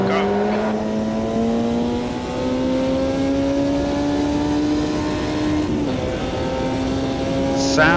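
Loud, high-pitched racing engine whine of a vintage Lotus 51 in the racing game Automobilista 2, climbing steadily through the gears, with brief shifts and a continuous roar throughout.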